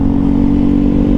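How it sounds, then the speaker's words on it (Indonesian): A nearby motorcycle fitted with a racing exhaust rumbles loudly and steadily, its deep droning exhaust note constant and close throughout. "pasti lebih kedengeran knalpot dia guys di kamera ini daripada knalpot gue sendiri"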